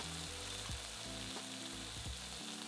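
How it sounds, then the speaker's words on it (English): Minced garlic sizzles with softened onion in a pan, a steady close frying hiss with a few soft stirring knocks and a low hum running underneath. "Now stir in 4 cloves of minced garlic and cook for a further minute"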